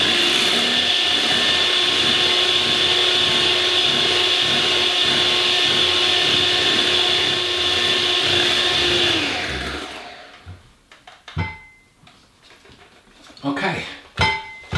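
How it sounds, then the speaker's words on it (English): An electric mixer blends low carb bread batter with egg, whirring steadily and loudly for about nine seconds before stopping, followed by scattered clatters and scraping in a kitchen. "Going to mix this just to get this blend and the egg mixed in really"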